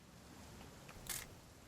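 An old camera's shutter clicks once in the video game What Remains of Edith Finch, a short bright snap rising out of quiet ambient background.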